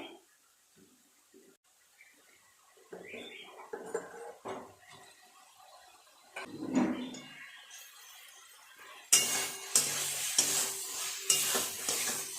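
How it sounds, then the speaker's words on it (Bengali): Potatoes are stirred and sautéed with spice paste and garam masala in a pan for a fish kalia, with soft scraping and sizzling that turns louder and busier toward the end. "মশলার সাথে আলুগুলোকে আরেকটু এইভাবে কষিয়ে নেব।"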